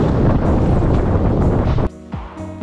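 Strong headwind roaring across the microphone while road cycling on flat ground, a loud, steady buffeting rush that cuts off abruptly near the end, leaving a quieter moment.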